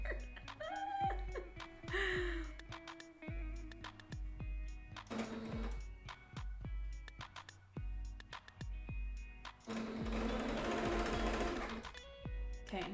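Sewing machine stitching in short, rapid bursts that start and stop, close by and fairly quiet, with a longer run near the end and light talk and laughter in between.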